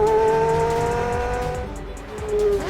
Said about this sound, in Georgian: აუცილებლად გიხსენებთ Porsche Carrera GT-ის ლეგენდარულ V10 ძრავასაც.